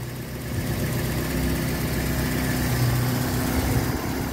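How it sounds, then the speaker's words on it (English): A steady car engine, a Ford Sierra, idles nearby at about 800 RPM with a constant low rumble and hum, holding an even level throughout with no other sounds. "Idle's about 800 RPM, which is right for the engine."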